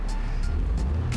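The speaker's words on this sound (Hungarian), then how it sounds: "ezt a 3 hengeres hangot én nagyon nem bírom, megmondom" Small three-cylinder 1.0 litre car engine running with a low, steady thrum and faint periodic ticks, moderately loud and with no talking.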